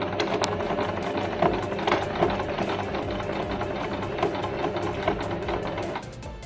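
Sewing machine stitching a pillowcase, running steadily with a dense mechanical whir and rapid needle rhythm throughout, stopping near the end.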